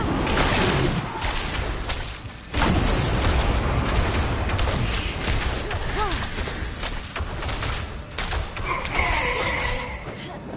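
Fire Hydras attacking in the video game Diablo 4, a dense continuous roar of fiery blasts and booms with layered magical effects, loud and busy throughout, with talk partly under it.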